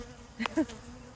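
Honey bees buzz faintly at an opened hive that holds only one frame of bees, with a couple of brief nearby buzzes in a short quiet moment.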